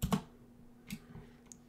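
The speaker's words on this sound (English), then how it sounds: "I can type in what I want the plan to be." Computer keyboard keys typed in a few quick, quiet bursts with pauses between them, close by and heard alone.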